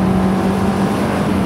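A pink American four-cylinder sports car with six gears and a 9,000 rpm redline revs harshly, its engine holding a loud, steady droning note with strong low tones close by, with no voices.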